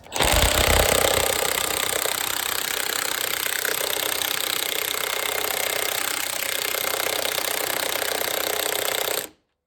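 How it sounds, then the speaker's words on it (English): A loud, continuous rattling hammer of a large impact wrench on a flywheel bolt runs steadily for nearly ten seconds, close up, then cuts off abruptly. "we got the big impact. Noise warning."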